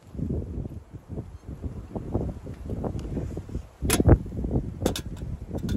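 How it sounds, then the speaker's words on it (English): Gusty wind at a fishing lake, blowing dust and grit, buffets the microphone in uneven low rumbles, with a few sharp clicks and rustles near the end. "It's really windy and it's just blowing dust everywhere."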